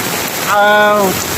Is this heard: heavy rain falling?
yes